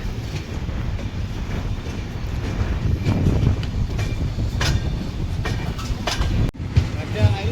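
The Sabari Express, train 20630 from Thiruvananthapuram to Secunderabad, rolls along a curve through greenery with a loud, steady rumble and rhythmic clacking of wheels on rails, heard up close from aboard.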